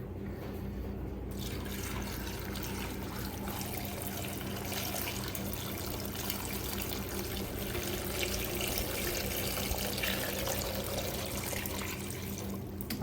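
Pickling lime solution, a gallon of water mixed with half a cup of lime, pours steadily onto cucumbers for sweet pickles in a continuous close splashing rush with no voices.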